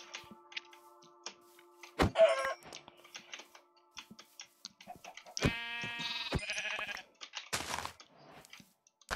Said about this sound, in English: we're killing these animals because we need a wool and a sheep